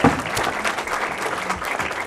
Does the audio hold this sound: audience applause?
yes